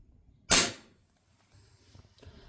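A Gamo 0.68-gram pellet fired from an air rifle: one sharp, loud crack close by, followed by faint low rustling and a small thump.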